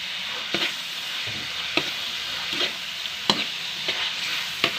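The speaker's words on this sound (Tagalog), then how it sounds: "Lagyan na natin guys ng tomato paste. Huwag natin ubusin guys kasi marami. Haluin muna natin." Tomato paste being stirred into a rabbit afritada as it fries, a soft continuous sizzle punctuated by regular scraping and clicking spoon strokes against the pot.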